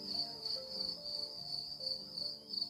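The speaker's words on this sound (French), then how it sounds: "grillon." A cricket chirps in a steady, shrill trill that runs through the whole stretch, fairly close and clear above soft background music.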